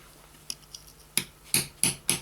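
A small hammer taps lightly a few times, then four sharper metallic strikes follow in an even rhythm, close up and without talk, seating a part into a Chinese 4500/5200 chainsaw during repair.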